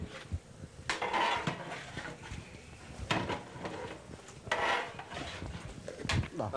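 Mutton biryani masala with coriander powder being stirred in a pot, with scraping and clinking of a utensil against metal coming in irregular bursts, close and moderately loud.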